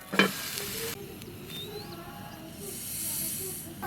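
Millet batter sizzles on an oiled griddle under a lid, making a steady, soft hiss that swells slightly after a short clatter at the start.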